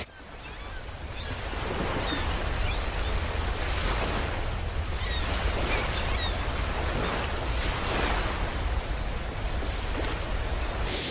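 Sea waves wash ashore on the sandy Bashbaria sea beach at Sitakunda, a steady broadband surf roar with repeated swelling breakers, fairly close and continuous, with some wind noise on the microphone and no talking.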